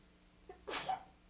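A single close, sharp sneeze with a quick intake of breath before it, in a quiet room during a talk.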